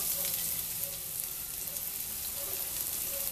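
Garlic sizzling in plenty of olive oil in a pan, a steady close frying hiss running unbroken throughout with faint intermittent bubbling and no talk.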